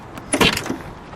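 Door of a 1967 Cadillac Eldorado being opened, a single short latch-and-swing sound, fairly close and on its own.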